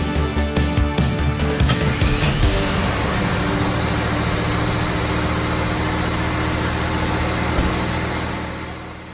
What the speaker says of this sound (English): you can notice when I just started it up there, the idle was very high